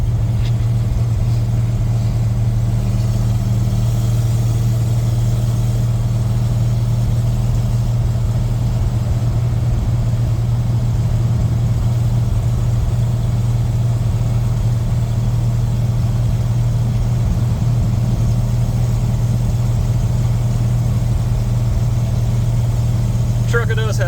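A 1986 Ford F150 pickup with a 351W V8, NP435 gearbox, glass pack mufflers, long-tube headers and an X-pipe idles steadily, a deep, even low rumble held throughout at close range.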